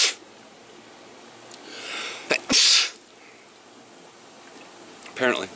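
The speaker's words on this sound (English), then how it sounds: "am I gonna sneeze in the hot tub?" A person sneezes while sitting in a steamy hot tub: a soft breathy buildup, then a sharp, forceful burst close to the microphone, followed by quiet and a short sniffing snort near the end.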